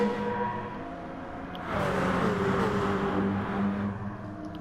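Race cars launching from the green-light start at Fuji in a Super GT racing video game, a loud steady engine drone that surges and climbs in pitch as the pack accelerates, layered over a constant crowd-like roar.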